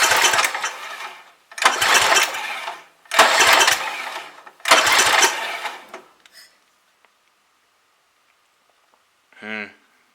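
A Roto-Hoe tiller's small engine with the choke fully open runs in four loud surging bursts with short gaps, then cuts out and falls silent, leaving a brief faint sound near the end.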